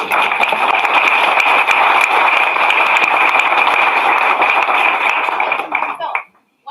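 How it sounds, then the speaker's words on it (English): Audience applause at a live science slam event in Munich, a dense sustained wash of clapping filling the room for about six seconds before cutting off abruptly. "So thanks to our sponsors, and please applause"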